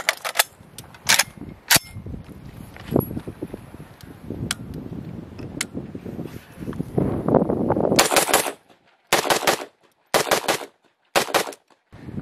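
A gun fed from surplus steel magazines fires outdoors in rapid bursts, first a scattered string of loud cracks under wind noise, then several tight, sharp bursts separated by short silences.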